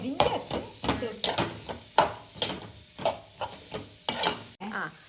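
Onions fry in coconut oil in a pan with curry leaves while a spoon stirs in a steady rhythm of scrapes over a sizzle. A voice talks over it.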